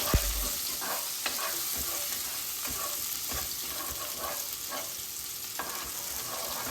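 Scallion sizzling and frying in a little olive oil in a pot, a steady close crackle with occasional stirring clicks and scrapes throughout.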